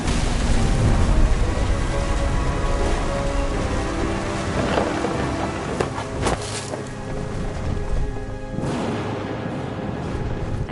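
Heavy rain with rolling thunder in the video game What Remains of Edith Finch, a dense continuous downpour with several loud cracks and rumbles through the middle, no voices.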